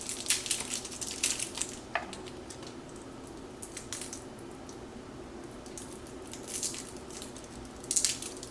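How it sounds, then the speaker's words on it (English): Caramel candies being unwrapped and halved with a knife, with crinkly wrapper rustles and soft cutting crunches in short bursts, busiest at the start and end, near and fairly quiet against a steady low hum. "I'm just going to unwrap them and use my knife to cut them in half."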